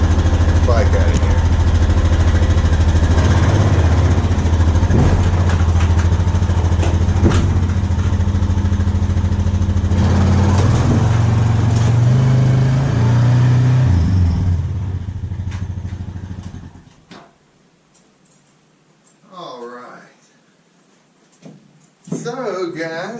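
A Honda 300 four-wheeler engine idles and revs loudly up close while it is backed out, a steady low drone that shifts pitch, then cuts off and leaves someone talking.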